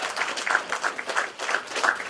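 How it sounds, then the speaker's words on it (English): An audience at the launch of a new customs website gives a round of applause after a prime minister's speech, with dense, steady clapping that fills the whole moment. "Let's give them a round of applause."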